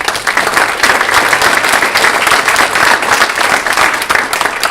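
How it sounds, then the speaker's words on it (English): Loud, dense applause from a chamber of commerce audience for a legislative delegation at a post-legislative forum, continuous clapping close by throughout. "Give them a round of applause."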